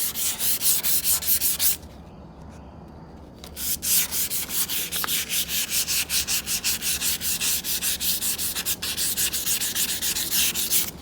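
A rag or pad rubs rhythmically over a 1968 Mustang body panel being cleaned after rust removal, fast steady back-and-forth scrubbing strokes, close and loud, with a short pause near the start.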